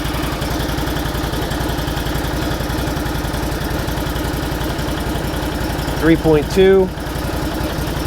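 A Can-Am Defender side-by-side engine idles steadily with a low, even mechanical throb, close to the microphone, while someone talks over it.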